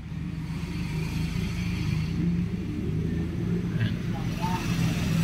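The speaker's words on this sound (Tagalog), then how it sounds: "parang may kakaiba mga boss sa pag nire-rev natin ng ating motor, nire-rev o kaya inarangkada" Low idling and revving engine rumble from a Suzuki GSX-S150 motorcycle with a worn balancer pin spring and a scraping noise, a steady close drone with faint higher rattles over it.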